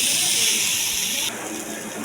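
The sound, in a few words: cauliflower frying in oil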